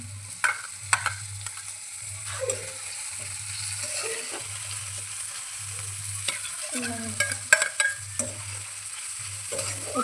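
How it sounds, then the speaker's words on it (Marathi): Tomatoes with ground green chili and garlic sautéing in a pan, a steady soft sizzle under repeated spatula scrapes and stirring taps, with a pulsing low hum from a nearby appliance and no talk. "छान ते परतून घ्यायचं."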